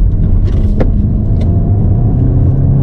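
Volkswagen Golf 8 GTI driving hard through a right-left bend, with a steady loud engine and road rumble throughout and a couple of brief sharp transients, no talk.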